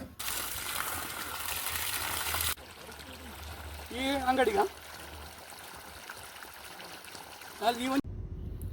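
Water gushes from a newly installed water pump at a house under construction, a loud rushing stream that cuts off abruptly, then quieter flow while voices speak briefly twice.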